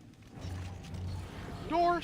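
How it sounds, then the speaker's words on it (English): A door mechanism opening in the video game Dead Space 3, a low mechanical grinding and creak that ends in a sharp, tonal metallic squeal near the end. "Door open."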